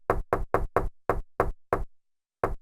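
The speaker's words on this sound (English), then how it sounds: "take the first knock and maybe use it almost as like a snare drum hi-hat hybrid" A knock sample triggered from a hardware sampler, seven evenly spaced hard wooden raps followed by a pause and one more, crisp, dry and close.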